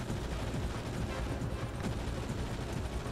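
Continuous AK rifle gunfire in the Enter the Matrix video game, a dense rapid stream of shots mixed with other combat noise, steady and unbroken, fairly quiet overall.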